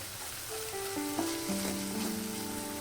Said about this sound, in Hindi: इसको पानी डाल के हमें अच्छे से भून लेना है।